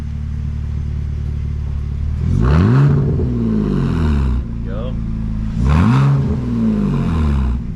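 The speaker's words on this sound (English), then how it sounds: "Give me a little snap of the throttle." The engine of a 2003 BMW Z4 idles, then revs sharply with two throttle snaps, each rising quickly and falling back to idle. A voice speaks briefly between them.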